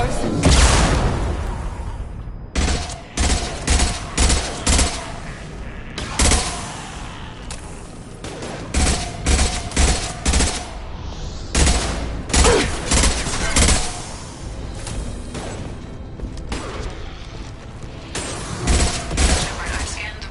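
Heavy weapons fire in Mass Effect 2 comes in repeated loud, close bursts spread through the whole stretch. Each volley is separated by brief gaps, and the sound rings out alone over a steady background roar.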